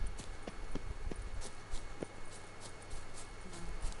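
Hooves of Roach, the horse in The Witcher 3, clip-clopping on a hill in a steady walking rhythm, fairly faint over a constant bed of ambient game noise, without speech.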